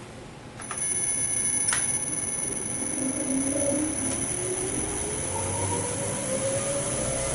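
Clutch dyno machine starting up after a brief click, then a steady loud whir as it spins up, with rising whine tones and a faint high-pitched ring throughout.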